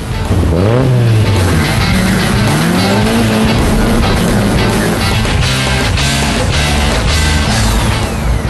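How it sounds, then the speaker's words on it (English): Modified cars roar through drag runs and J-turns, loud revving engines rising and falling with screeching tire squeals and skids, dense and continuous throughout. "And what about the old J-turns? And what about a bit of drag racing, eh, boys?"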